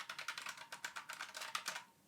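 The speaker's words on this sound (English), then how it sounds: "for those that are picky about the way that the keyboard sounds and how it feels" Rapid typing on a MoErgo Glove80 wireless split mechanical keyboard: a close, even run of crisp key clicks that stops just before the end.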